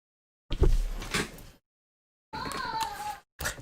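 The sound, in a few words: door being shut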